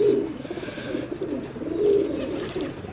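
Pigeons coo in a steady, rolling stream of low, throaty calls that swell and fade across the clip, close by and fairly loud with no voices over them.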